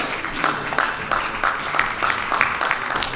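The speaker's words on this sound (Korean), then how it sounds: "큰 박수 보내주시기 바랍니다" An audience applauds at an award ceremony at the Seoul Challenge Festival, with rhythmic, evenly spaced claps in unison at a steady moderate volume.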